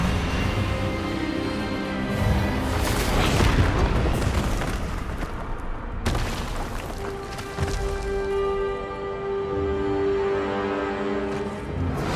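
An Expelliarmus spell cast in the PS5 game Hogwarts Legacy, a loud rumbling magical blast with a sharp crack midway and a sustained tonal hum trailing off, over a dense game soundscape.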